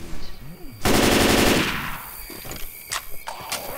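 Loud rapid automatic gunfire from a weapon in the Left 4 Dead 2 video game, a dense burst lasting under a second, followed by scattered softer game sounds and sharp clicks.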